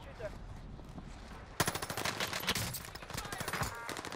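Rapid automatic bursts from an MP40 submachine gun in Call of Duty Warzone on Rebirth Island, loud and close, a dense rattle of shots that begins suddenly and keeps firing.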